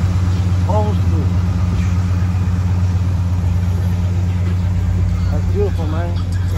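An old Oldsmobile car engine idles with a steady low rumble throughout, close and continuous, while people talk over it outdoors.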